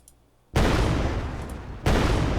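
Video game gunfire erupts in two loud, sustained bursts after a brief quiet moment, dense and close with no talking.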